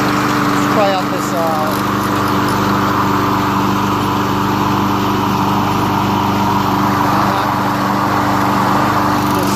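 A Craftsman 6HP self-propelled lawn mower engine runs at a steady, loud, close drone throughout, with someone talking briefly near the start.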